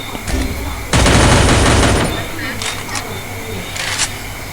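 Gunfire in the mobile battle royale game Free Fire: a few isolated shots, then a loud sustained automatic burst, then scattered single cracks, with a voice talking excitedly over the action.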